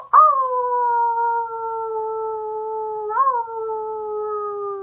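A person imitates a wolf howl with one long, steady, sustained wail that dips and swells slightly midway before trailing on, loud and close, alone with nothing else heard.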